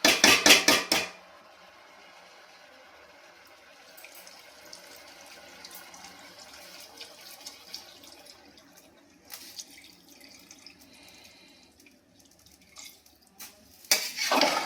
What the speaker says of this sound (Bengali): কুকারে চিকেন হয়ে গেল দিয়ে এবারে জল দিয়ে দেবো